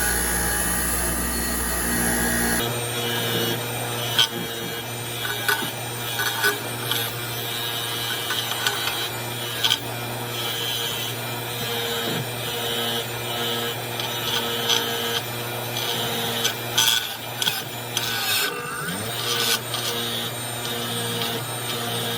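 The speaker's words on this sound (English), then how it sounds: "I usually use a bench grinder" A bench grinder wire-cleaning rusty buildup off an old engine valve from a small-block V8 cylinder head, a steady motor hum under scratchy rasping as the valve is pressed and turned against the wheel, close and loud.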